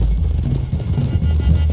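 Horses' hooves on a road in Red Dead Redemption 2, close rapid clip-clop of several horses moving together, loud and continuous over a short stretch.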